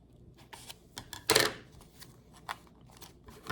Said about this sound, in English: try the scissors approach once more